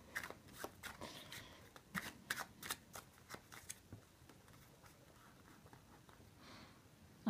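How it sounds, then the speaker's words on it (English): Playing cards riffle and slap in quick irregular bursts, crisp and close, then taper into a softer, quieter rustle of handling. "the overhand shuffle is a shuffle that everyone knows"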